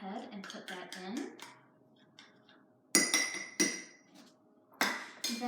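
Canned pumpkin spooned from a cup into a mug, with a voice talking at first, then sharp scraping clinks of a spoon against ceramic in several separate bursts.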